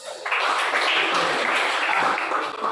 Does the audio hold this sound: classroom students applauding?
yes